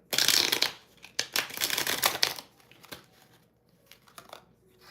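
Tarot cards shuffled close by in a quick, dense riffle for about two seconds, then a few softer scattered card flicks and slides afterward, with no talking.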